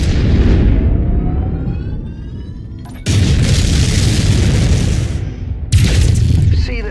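Mech's center torso blown apart in MechWarrior 5: Mercenaries, a loud booming explosion with a rumbling tail, then two more heavy blasts in quick succession, dense low-end roar with no talking.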